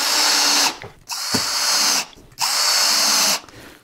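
Two loud bursts of a power drill whirring as it drives screws into wood, each about a second long, separated by brief pauses with a faint clunk, close up.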